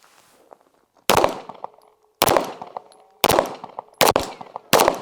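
A gun being test-fired, five sharp loud shots spaced about a second apart, each with a short ringing decay, separated by quiet background.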